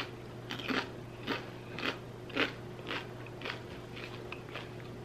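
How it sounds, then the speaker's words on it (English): Air-fried homemade potato chips being crunched close up, about eight crisp bites spaced roughly half a second apart over a low steady hum, no talking. "I want you guys to hear the crunch."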